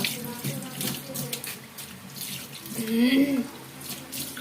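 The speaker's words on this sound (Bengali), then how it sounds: "এই সবাই সবার প্লেট ধুয়ে ফেলবা।" Plates are washed under a running tap at a home kitchen sink. Water gushes steadily with shifting splashes and light clinks of dishware, close by and moderately loud.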